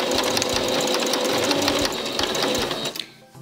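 A sewing machine stitches a seam on a fitted reusable fabric mask with a fast, steady mechanical chatter that runs loud and close for about three seconds, then stops.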